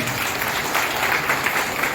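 An audience at an anniversary gathering claps steadily and densely, a sustained burst of applause close by and fairly loud from start to finish.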